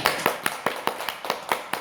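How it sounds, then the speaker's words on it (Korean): Audience members clap together in a slow, even rhythm, about eight distinct claps in under two seconds, faint and somewhat distant. "박수 한번 쳐드려야 되겠습니다"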